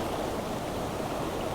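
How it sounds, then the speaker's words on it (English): Ocean waves rolling onto a rocky Australian coastline make a dense, continuous roar of surf, close and loud throughout with no voices. "Just keep an eye on these waves."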